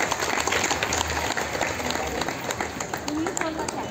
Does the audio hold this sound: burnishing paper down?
no